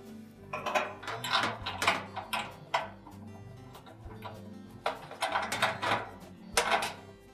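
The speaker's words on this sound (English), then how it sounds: "We put a wrench on that" Metallic clicks and clanks of a wrench working a 9/16 hex nut off the back of a Maytag dryer roller shaft, irregular and fairly close, quiet overall with no talking.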